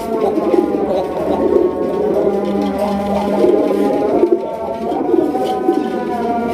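Raj Golla pigeons coo in a loft, with deep, rolling calls repeating and overlapping close by, under a steady background hum and no talk.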